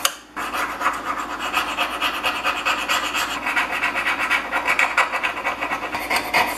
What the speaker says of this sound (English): get your scraper out, scrape the rust from the flat surface.